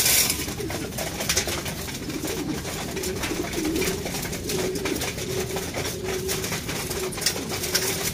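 Pigeons fed a flyer seed mix coo in soft, repeated low phrases throughout, close by, over a constant busy background hum with faint pecking and clicking.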